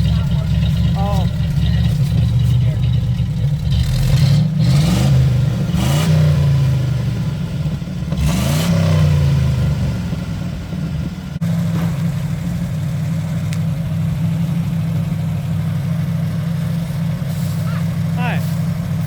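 The engine of a 1957 car runs near and loud, idling with a rough, uneven rumble and rising in several revs before settling back, with someone talking over it.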